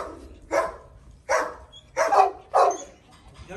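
A Cane Corso dog barks four times in deep, separate woofs spaced roughly evenly apart, close by, with quiet background between barks and no talking.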